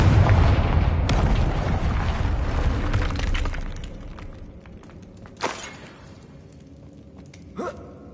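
A Confringo spell explosion in Hogwarts Legacy on PS5 starts with a heavy rumbling blast that fades over several seconds, followed by two sharp, brief magical zaps.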